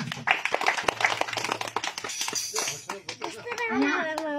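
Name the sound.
congregation clapping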